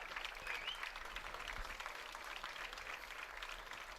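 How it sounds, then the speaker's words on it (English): A crowd on its feet claps steadily at a Friday-night Ohio high school football game, Sandy Valley at Tusky Valley; the dense, continuous applause holds at moderate distance for the whole stretch with no break. "Everybody's on their feet, clapping."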